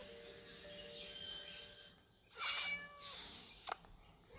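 A cat meows twice, loud and drawn out, close by, after a quieter stretch of faint high-pitched sounds.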